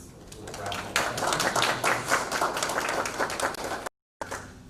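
Applause rings out at a graduation ceremony for Dallas Institute of Funeral Service award recipients, a steady wash of many clapping hands that holds evenly for several seconds before cutting off briefly and resuming.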